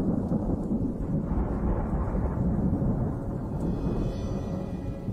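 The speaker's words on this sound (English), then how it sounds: "As the summer turns, storms roll in." Thunderstorm rolling over a summer swamp, with a continuous deep rumble of thunder and steady rain noise filling the whole stretch, loud and unbroken with slow swells in intensity.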